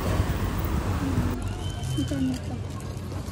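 Rain falls steadily over an outdoor secondhand market in Macau, a dense hiss that shifts to a thinner patter partway through, with faint voices talking nearby.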